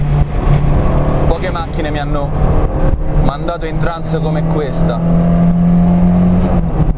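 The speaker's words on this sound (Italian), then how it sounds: "Grida a pieni polmoni, ha una rabbia repressa questa Ritmo." Fiat Ritmo Abarth 130 TC engine revs hard while driving, a loud, rising and falling mechanical roar with someone talking over it in the car.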